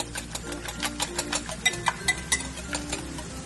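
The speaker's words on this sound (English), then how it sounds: "a little bit more whipping." An egg mixture is whipped by hand in a bowl, producing a quick, rhythmic series of whisk strokes that grow a little stronger midway, set against soft background music.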